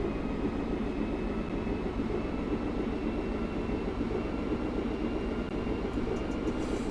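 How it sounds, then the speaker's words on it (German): Steady, droning rumble of trams running and passing in busy street traffic in a PC tram simulator, a constant low mechanical hum with no talking. "Oh, das ist ja ein schöner reger Straßenbahnverkehr hier"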